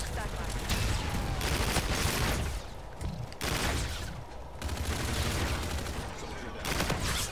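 Loud rapid gunfire in a Call of Duty: Infinite Warfare multiplayer match, dense bursts of automatic shots coming in clustered volleys with brief gaps between them.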